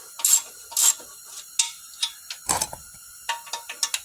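Ratchet wrench tightening the catalytic converter bolts on a 2003 Toyota Sienna, heard as quick close clicking bursts of turns with short pauses, plus a brief metallic clatter midway.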